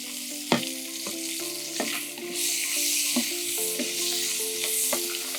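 Food fries in a pan until reddish, a close steady sizzle with a tonal hum underneath and periodic sharp clacks of a utensil stirring and tapping the pan.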